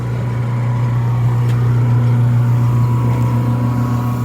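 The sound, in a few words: Kelly Duplex 500 lb mixer running on new motor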